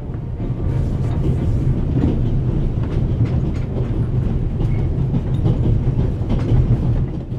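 A train rolls along steadily in The Raven Remastered, a continuous low rumble with faint rhythmic clatter of wheels on track, close and even throughout.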